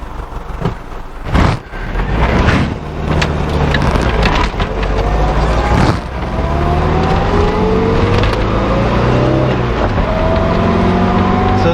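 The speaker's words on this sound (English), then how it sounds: "A lot of traffic out here today." Road traffic passing in front of a house, with cars rushing by one after another in a steady loud roar, engines rising and falling as vehicles approach and pass nearby.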